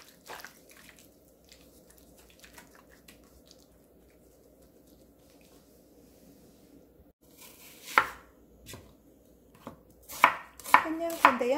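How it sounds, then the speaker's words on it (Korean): Vegetables chopped with a knife on a board for a Korean pork neck stir-fry, with sparse quiet taps over faint kitchen background, then louder, sharp chopping strikes clustered near the end. "밑간 해놓고 야채 손질하겠습니다"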